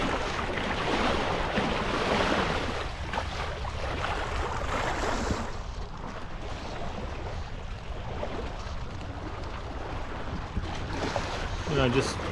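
Sailboat running downwind on a broad reach, with steady wind rush and waves washing along the hull, continuous and fairly loud throughout with no talking.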